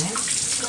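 Running tap water splashes over hands being washed in a kitchen sink during cooking prep, a close, continuous rushing hiss heard alone for under a second.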